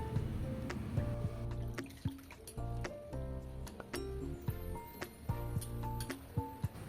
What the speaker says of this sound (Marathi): आता या डाळीमध्ये थोडं पाणी टाकून स्वच्छ धुवून घ्या